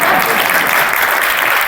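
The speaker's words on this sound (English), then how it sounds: "You can clap for that." Loud, close applause from the audience at a city council hearing, sustained and even throughout with no voices standing out.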